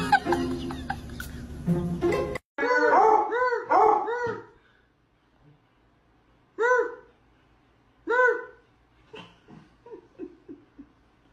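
Dog barking and howling in several bursts, a long drawn-out wavering howl followed by a few short yowling barks with quiet gaps between, close and loud, after a brief stretch of other sound at the start.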